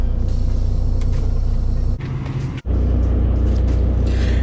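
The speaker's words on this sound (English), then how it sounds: "I got the truck running right now because it is extremely hot and I need some AC going" A large truck engine idles with its air conditioning running, a steady deep rumble close by, with a brief dip and shift in tone midway before settling back.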